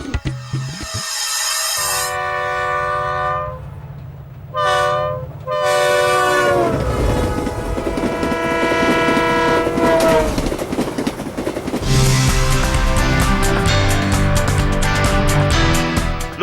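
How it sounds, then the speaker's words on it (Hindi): A train at Ludhiana railway station blasts its horn in long, loud, repeated tones, then rolls close by with rumbling and clattering wheels. "लुधियाना के रेलवे स्टेशन पर हम मौजूद हैं"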